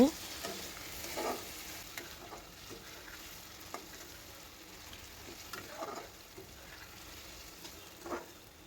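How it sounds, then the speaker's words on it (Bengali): Potatoes and carrots frying in a pan: a soft, continuous sizzle with occasional stirring scrapes, faint and close, with no talk. "এবার আলু এবং গাজর আমি ভেজে নিব।"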